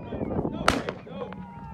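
A single sharp gunshot cracks out at a distance amid quiet background voices, during a bird hunt in the Mexicali Valley, Baja California, Mexico.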